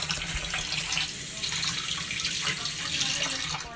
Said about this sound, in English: Gotta wash my hands.